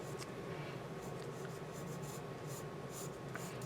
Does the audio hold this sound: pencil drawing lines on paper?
yes